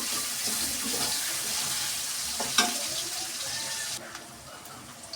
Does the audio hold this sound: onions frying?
yes